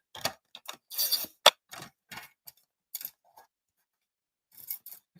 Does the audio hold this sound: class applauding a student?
no